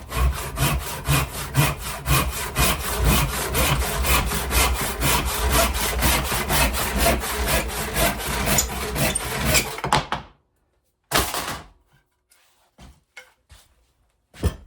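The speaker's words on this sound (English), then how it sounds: "Might as well go old school with the hand saw for this bad boy." Hand saw cutting through wood with steady, rapid back-and-forth rasping strokes for about ten seconds, close and loud, then stopping, followed by a few scattered knocks and a brief rustle.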